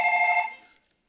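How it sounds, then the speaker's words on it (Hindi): A phone rings on a comedy show stage: one short, bright electronic ring that cuts off and leaves silence. "ओ ब्रो मेरा फोन आए"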